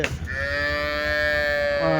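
A cow at the weekly Punganur cattle market lets out one long, loud, sustained moo that holds steady for about two seconds, close to the listener.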